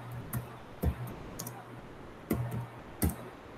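Computer keyboard keys pressed for a Ctrl+Enter shortcut, a handful of sharp, close clicks spaced irregularly over steady low background hum.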